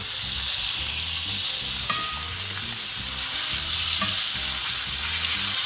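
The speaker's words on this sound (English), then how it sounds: "we're just trying to get a nice, good looking brown sear to it" A sous vide steak searing in a pan with butter gives a loud, steady, broadband sizzle close up, with a low hum and a couple of small metallic clinks; no one speaks.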